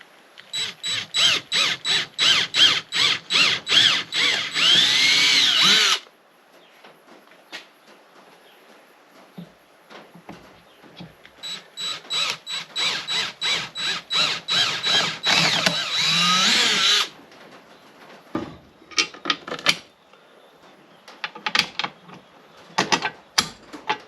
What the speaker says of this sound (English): So I'm now going to drill